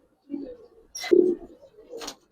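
Giribaz pigeons give a few soft low coos at close range, in short bursts separated by brief pauses, with faint rustling between them.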